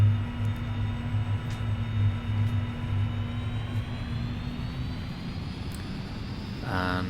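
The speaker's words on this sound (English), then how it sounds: "I'm going to apply a bit of angle to that prop by raising the propeller lever, and then I'm going to raise the throttle." A Kodiak 100 turboprop in a flight simulator game spools up as the throttle rises, a steady droning engine hum with a slowly climbing whine, fairly quiet and heard alone.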